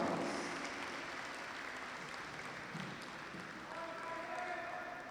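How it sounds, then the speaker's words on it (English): At a Davis Cup tennis tie between Vietnam and Singapore, a crowd gives sustained applause to welcome Vietnam's team, heard as a dense, fairly faint wash of clapping with a steady level throughout. "Please give them a warm welcome and a big applause."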